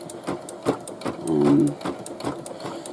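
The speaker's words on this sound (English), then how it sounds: "Put that down and start stitching." Sewing machine stitching a hooded towel, a steady close rhythmic whir with fast needle pulses and a brief louder stretch in the middle.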